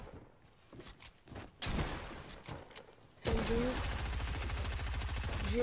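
Gunfire in a first-person shooter game, quick bursts of rapid shots cracking out, then a sustained stretch of loud automatic fire near the end, with a player's voice faintly in the background.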